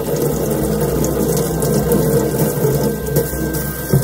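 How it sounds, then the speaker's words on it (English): Bok choy being rinsed in a kitchen sink under a running tap, with a steady rush of water splashing continuously over the leaves at close range and no talking. "First, just give it a nice rinse to bok choy."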